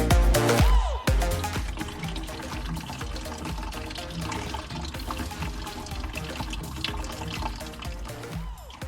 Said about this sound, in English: once you undo this, that's when your coolant is going to leak out from it